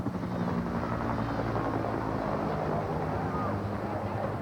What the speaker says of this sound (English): another helicopter going over.